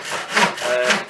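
Small hand saw cutting cherry wood, two rasping back-and-forth strokes, close and moderately loud.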